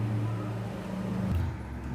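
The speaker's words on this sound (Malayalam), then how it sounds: "ഇത് മാത്രം ഒന്ന് മിക്സിയിലിട്ടൊന്ന് അടിച്ചെടുക്കാം" A mixer grinder blends papaya with sugar, its motor holding a steady, loud droning whir throughout with a slight shift in pitch near the end.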